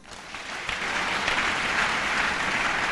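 A church congregation breaks into loud, sustained applause that builds within the first second and holds steady and dense throughout, with no talking over it.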